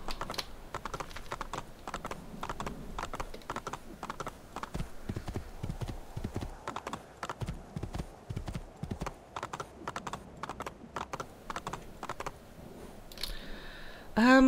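A horse gallops in Assassin's Creed II, with rapid rhythmic hoofbeats clattering steadily throughout alongside light game ambience, and a short whinny-like tone near the end.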